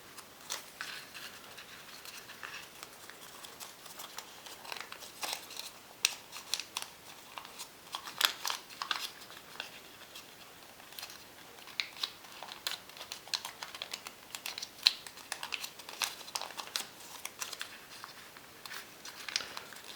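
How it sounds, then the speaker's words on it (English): Origami paper for a cat figure is folded and creased by hand, giving steady soft crinkles, taps and rustles close up, with no talking. "Of course, roll the paper out"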